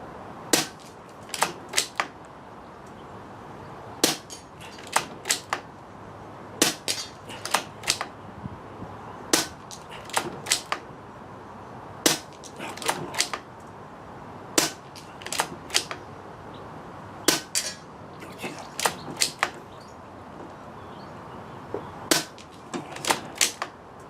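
An Air Arms S200 air rifle fires a string of sharp, clean cracks at irregular intervals, often in quick pairs or triplets, each a crisp transient standing out against light wind outdoors.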